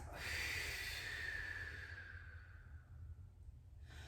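A slow, forceful exhale during a breathing exercise, a breathy hiss that starts strong, then fades over a few seconds into near silence, close and quiet.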